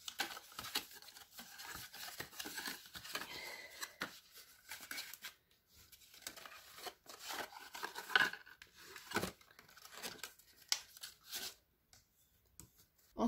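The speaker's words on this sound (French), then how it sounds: "Vous marquez tous les plis." Paper being creased along fold lines for a handmade Christmas gift box, soft irregular rubbing, crinkling and scraping strokes, close and quiet, with brief pauses between folds.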